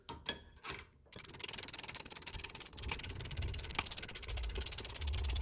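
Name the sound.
ratchet wrench tightening brake caliper bolt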